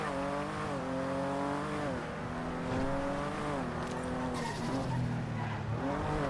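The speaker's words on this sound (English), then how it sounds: "Braking, doing a U-turn" Police car in a GTA NoPixel game braking hard and swinging through a U-turn, tires squealing and skidding over a steady engine drone that dips and climbs as it turns, with no talk.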